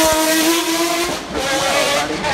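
A race car flies past at the 2018 Goodwood Festival of Speed hill climb, its engine screaming loud and close with a quick pitch sweep, under faint crowd and commentary noise.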